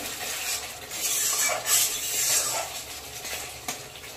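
Spice paste fries in a pan for a fish curry with a little added water, giving a soft steady sizzle and rubbing scrapes of a spoon stirring, close and continuous.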